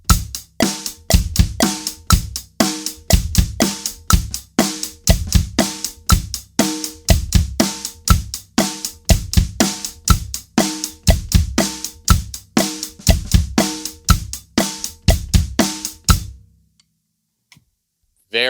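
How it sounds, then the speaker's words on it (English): A drum kit plays a steady groove at 120 beats per minute, with loud, evenly spaced hits and cymbal strokes in a driving rhythm that stops abruptly before a brief silence. "All right, let's do that same drum beat at 120 beats per minute."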